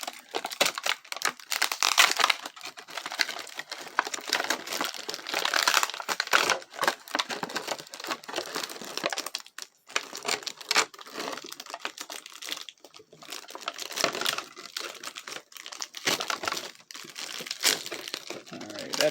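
Plastic packaging crinkling and rustling as it is pulled out of a Bakugan Geogan Rising Arcleon toy box, continuous close crackles with sharp bursts and brief pauses.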